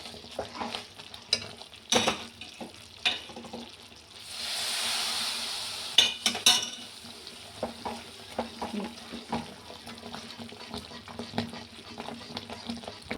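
A spoon scrapes and stirs a frying mixture around a pan in irregular clatters, with a soft sizzle beneath and a brief louder hiss burst midway, heard close with no speech.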